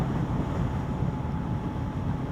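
Heavy wind buffets the microphone of a rider on a Kawasaki Ninja 650, a dense, continuous low roar with no break.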